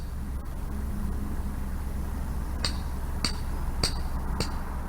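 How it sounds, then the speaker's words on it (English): Hammer banging a steel mooring pin into a canal bank beside a narrowboat, four sharp metallic strikes in a steady rhythm over constant low outdoor rumble, fairly distant and moderate in level. "I take a mooring pin and a hammer with me, and I bang the mooring pin temporarily"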